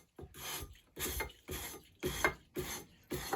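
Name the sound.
dragging sandpaper along a carving tool edge to raise burr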